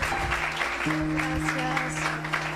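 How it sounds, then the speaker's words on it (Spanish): Congregation applauding at a church service, a brief, moderate burst of clapping over a sustained low musical drone from the stage. "Vamos a darle un aplauso fuerte a Pau"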